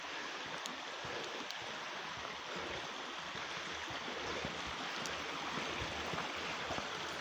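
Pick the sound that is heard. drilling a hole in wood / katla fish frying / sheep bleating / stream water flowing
stream water flowing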